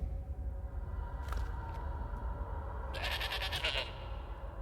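A goat bleats in Elder Scrolls Online's Summerset Isles expansion: a short, nasal bleat rises over a steady low game ambience, with a louder, fuller bleat near the end.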